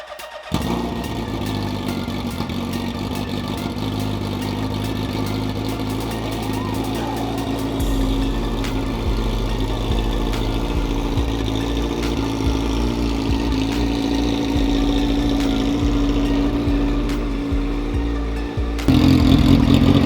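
Engine of a custom 2006 Suzuki Hayabusa motorcycle idling after a cold start, a steady loud close rumble throughout with a brief rev surge near the end, voices faintly audible.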